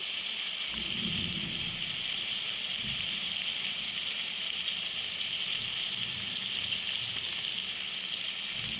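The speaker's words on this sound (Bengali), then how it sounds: "ঝিঙেটা পুরো নরম হয়ে যাবে তো তবু আমি একটু ভেজে নিচ্ছি" Ridge gourd frying in hot oil, a steady broad sizzle that holds evenly throughout with no voices, close and fairly loud.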